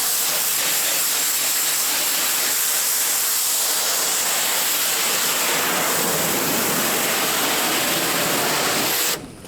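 A pressure washer blasts water against a salvaged 1980s mobile home trailer, making a loud, steady, close-up hiss that runs continuously and then cuts off abruptly at the end.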